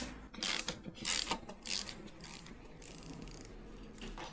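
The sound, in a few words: ratchet with 12 mm socket removing kickstarter bolt on KLR 250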